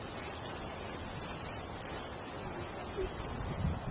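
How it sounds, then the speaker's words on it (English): Steady wind blows with a broad, rushing roar and no speech. "It's a windy day today too."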